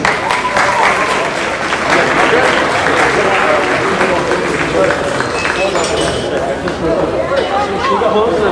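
Crowd applause at a youth commercial pig show, placed right after the medium weight class judging. Clapping stays dense and steady throughout with chatter and crowd noise mixed in.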